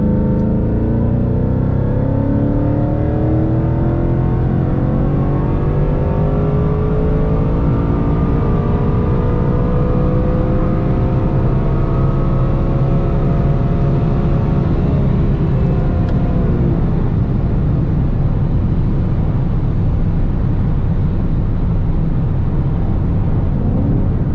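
A Roush Stage 3 Mustang in sport mode pulls hard, its engine note climbing steadily through the revs before a shift and a deep continuing roar, heard from inside with no talking.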